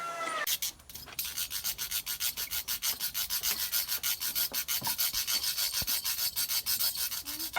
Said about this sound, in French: Je frotte, les hélices tournent.